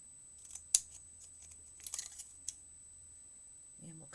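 Scissors snip through material while building a magnet slider, a few sharp close cuts spaced apart with quiet gaps between them, followed by a short low murmur at the end.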